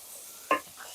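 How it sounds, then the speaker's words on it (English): A ham hock crisps in a pot over medium heat, giving one short, sharp sizzle burst that fades quickly into faint background crackle. "this little ham hock is in there crisping up"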